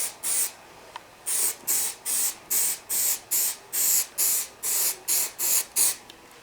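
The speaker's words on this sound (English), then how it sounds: "when I was spraying the other side, it shot up." An aerosol spray can is sprayed onto a one-piece slate pool table while re-felting it, about fourteen short hissing bursts in a quick even rhythm, close and clear with no talking.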